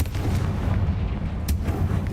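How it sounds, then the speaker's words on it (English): The Confringo fire spell in the video game Hogwarts Legacy sets off a deep, rumbling explosion with booming low-end weight and a couple of sharp cracks over a continuous roar. "Confringo!"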